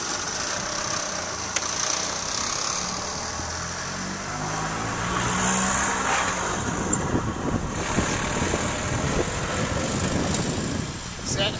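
A classic Harley-Davidson motorcycle engine runs with a steady, low, rough rumble throughout, close and fairly loud, with no clear pauses or revving.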